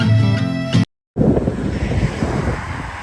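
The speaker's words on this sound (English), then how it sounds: "That's how windy it is." Strong wind buffets the microphone on a coast, a loud continuous roar and rumble with a sudden cut near the start before the gusting noise resumes, with no talk.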